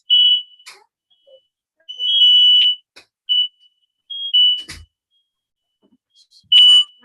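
Office smoke alarm beeping in short, loud, high-pitched bursts separated by irregular silences, sounding several times, close and clear with no talk over it.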